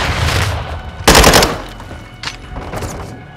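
Automatic gunfire in Call of Duty: Modern Warfare II, a loud close burst of rapid shots followed by a few shorter, fainter bursts from further off.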